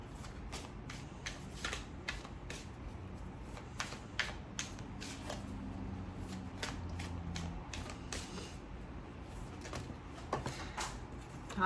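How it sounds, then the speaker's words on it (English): Crisp, repeated riffling of tarot cards being shuffled, with short bursts spread steadily throughout and no talking. "I was shuffling your cards during the little break"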